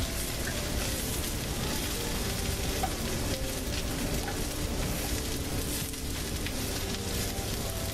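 Spinach and mushrooms fry in a full pan for a frittata, giving a steady, close sizzle with soft crackles and occasional stirring scrapes, with no talk.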